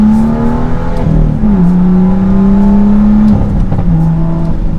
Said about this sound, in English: that is one of the best sounding engines from inside the cabin.